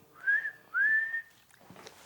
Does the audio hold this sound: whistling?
yes